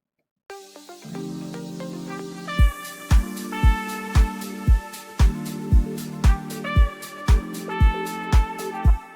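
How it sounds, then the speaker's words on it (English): Bright brass-like trumpet line playing sustained notes in a soulful deep house track, layered over a steady four-on-the-floor kick and chords, loud and close with no talking. "And so now I added like a trumpet for this song, and it sounds like this."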